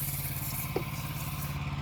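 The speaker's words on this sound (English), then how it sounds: "I also have the machine throttled down." A pressure washing machine's engine throttled down to a low idle, a steady low rumbling drone with faint clatter running constantly in the background.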